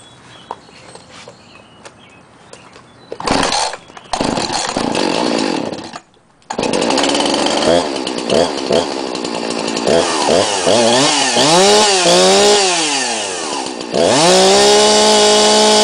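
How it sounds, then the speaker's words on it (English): A 2006 chainsaw is pulled a few times, then catches and roars into a loud, steady idle with revving bursts and swooping pitch changes, close by, with no talking. "As you can see, or you could hear, it starts up and runs just fine."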